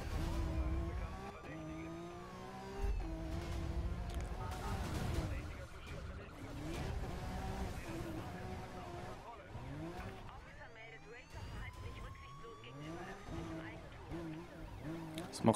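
Racing cars in Need for Speed Rivals, including a Ferrari Enzo, rev and shift through rising and falling engine whines with tire squeals throughout. Someone talks over the game sound.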